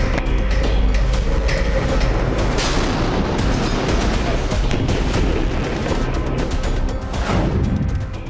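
Artillery fire in the Syrian war between Assad's army and rebel factions, a dense, continuous barrage of booms and crackling blasts rumbling loudly throughout.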